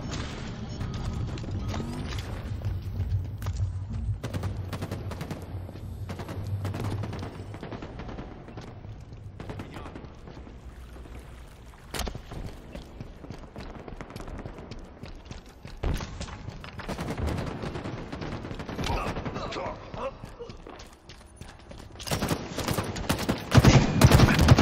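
Video game gunfire crackles in rapid bursts and volleys, close and steady, mixed with clattering mechanical effects and crashes throughout.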